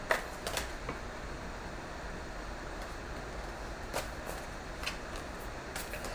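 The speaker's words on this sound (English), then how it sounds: "I'm going to shuffle a little slower because this is a handful" Tarot cards being shuffled by hand, soft riffling and sliding with a few sharper snaps of cards, fairly quiet and close, with no speech.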